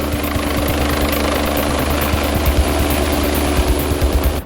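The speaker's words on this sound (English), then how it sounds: "that means scrambling a second helicopter" Steady, loud rotor drone with a low rhythmic thumping, like a helicopter running close by, no voices.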